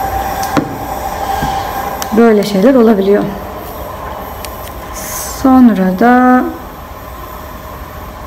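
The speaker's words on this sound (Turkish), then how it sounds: "Trenin gürültüsünü duydunuz." A train passes nearby, its wheels giving two loud, rising squeals separated by a few seconds, over a steady rumble while a person talks.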